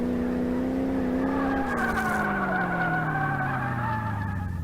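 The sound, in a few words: car engine and skidding in video game Car Mechanic Simulator 2018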